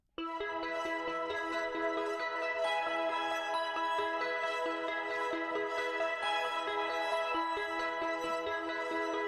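Shimmering bell tones ring over soft sustained synth pads, forming a continuous, gently layered musical texture with no voices.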